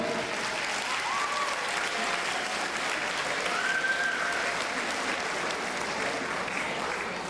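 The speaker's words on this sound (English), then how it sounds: "give yourself a big round of applause, a big one." Sustained applause from a large crowd at a public school event, a dense, even wash of clapping that holds steady throughout, with faint voices and a whistle or cheer rising briefly within it.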